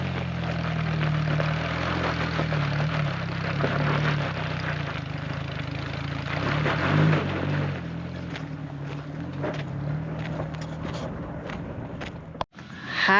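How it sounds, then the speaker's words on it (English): An 87 Suzuki Samurai 1.3 with a swapped carburetor lugs up a hill in high range below 1800 RPM, giving a steady low engine drone with wind rush throughout and a brief thump near the end. "We're testing out a high range, low RPM hill climb to see how the carb does."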